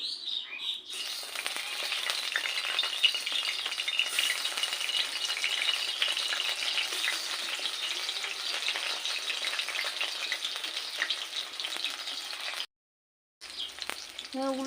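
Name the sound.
potatoes frying in oil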